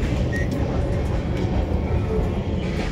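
Steady rumble and rattle of a Howrah to Bengaluru express train rolling into Bhubaneswar station, a dense continuous rail noise heard from inside, with faint voices mixed underneath.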